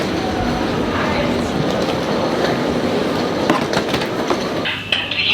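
An ÖBB Nightjet sleeper train rumbles through a Vienna station at close range, with a steady rolling roar, faint wheel clatter and brief squeals. Voices can be heard underneath.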